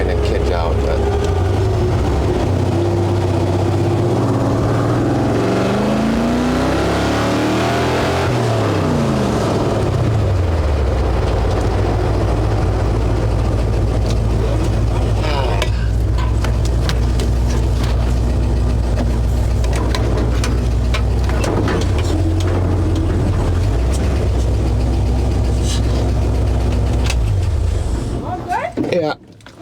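A 1964 Ford F100 pickup accelerates hard, its engine roaring and sweeping up in pitch through the gears, then settling into a steady drone with rattles and bumps before dropping off at the end; a voice talks over it.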